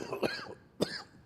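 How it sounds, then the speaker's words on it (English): Two sharp coughs from one person, close and fairly quiet, spaced about half a second apart with a brief rasp after each. "Sorry for the coughing, guys."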